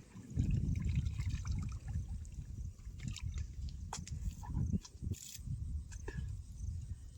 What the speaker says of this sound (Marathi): आपण पाणी पिणार आहे आता दरीचं मस्तपैकी झऱ्याचं